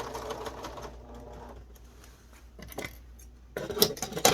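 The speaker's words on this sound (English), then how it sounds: "stitch down and back again, and then all the way down and back again" A sewing machine stitches an aluminium nose strip into a fabric face mask with a rapid mechanical whir. The stitching runs in a fast burst, pauses through a quieter gap, then starts again near the end.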